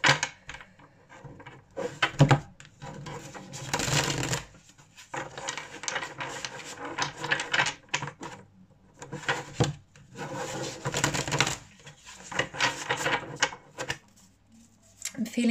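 Repeated papery riffling and rubbing of tarot cards being shuffled in bursts, close by, with short pauses between shuffles; no talking.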